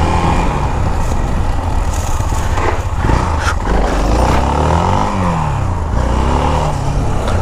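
A motorcycle ridden in wheelies through a favela, its engine loud and close, revving up and easing off in waves over a constant low rumble.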